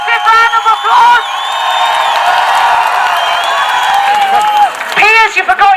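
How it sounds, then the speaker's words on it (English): A large audience at a rally cheers, whoops and applauds loudly for a sustained stretch, with a voice speaking over the crowd at the start and end. "Let's hear a massive round of applause."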